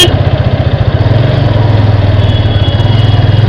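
Hero Karizma motorcycle engine thrumming steadily while being ridden, a loud, close, continuous low pulsing beat with rhythmic throb throughout and no voices.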